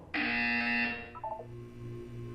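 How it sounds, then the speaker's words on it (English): A harsh electronic buzzer from the video game Portal 2 sounds once, loud and sustained for about a second, then a few quick lower tones follow and fade into a faint hum. "When you hear the buzzer, look down at the floor."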